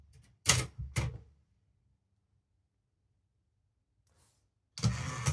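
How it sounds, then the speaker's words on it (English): Manual typewriter in a quiet room: a few sharp, loud keystrokes close together, a long silence, then a renewed burst of clattering strikes. "I could type in the character I wanted"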